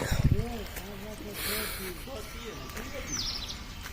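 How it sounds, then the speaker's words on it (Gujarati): Birds chirp in a steady run of short repeated calls, with a higher sweeping tweet near the end over a faint outdoor background. "પક્ષીઓના કલરવ સાથે આનંદથી આનંદ"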